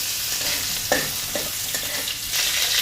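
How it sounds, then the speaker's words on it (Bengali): Chopped garlic and ginger frying in oil in a pan, a steady close sizzle with a few short stirring scrapes, no voices. "ভেজে নেওয়া হচ্ছে"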